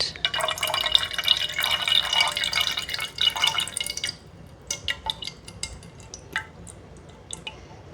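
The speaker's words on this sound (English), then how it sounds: "Now just pour that juice off into this tin" Juice drained from a tin of diced capsicum pours into another tin while cooking a salmon patty salad, a steady close splashing stream for about four seconds, then scattered faint drips.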